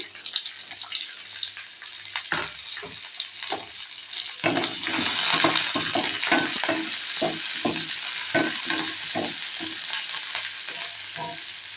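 Two chopped large onions frying in oil with garlic and dried red chillies for hotel-style kara chutney, a loud continuous sizzle with repeated scraping stirs of a spoon in the pan.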